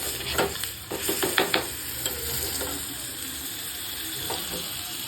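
Garlic chutney hitting hot oil with cumin and asafoetida, a steady hiss of sizzling with a few sharper crackles and stirring clinks near the start, continuous and close by.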